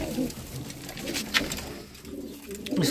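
Pigeons coo nearby in soft, low, rolling calls, with a few rustles and light clicks between them.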